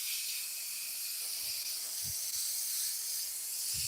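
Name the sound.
airbrush spraying paint on a pen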